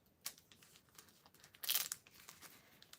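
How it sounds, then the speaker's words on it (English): A tampon's plastic package wrapper is opened up close with soft crinkles and small tearing sounds, building to one louder, sharper rip midway, otherwise quiet, with no talking. "We're also including here how to open a tampon package."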